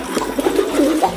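A pigeon coos nearby in a few short, throaty rolling calls, clear and fairly loud with no talking over it.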